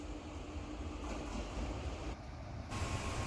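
A night train bound for Madurai rumbling along, a loud continuous low roar with steady rattling from the carriage, briefly muffled midway, no voices.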